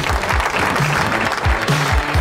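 Applause in the studio of a Filipino AM radio show, a fairly loud burst of clapping mixed with low, repeating swooping tones underneath, with no talk.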